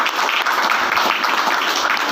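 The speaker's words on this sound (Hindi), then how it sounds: "जोरदार तालियां उनके लिए" An audience at a live business seminar in Robertsganj, Sonbhadra, claps loudly and continuously, a dense wash of many hands throughout.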